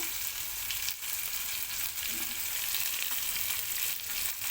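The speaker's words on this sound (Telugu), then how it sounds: "ఇప్పుడు దీంట్లో ఉల్లిపాయలు వేయాలి" Chopped onions sizzle and fry in a generous amount of hot oil in a pan, a steady close crackling hiss with no talking.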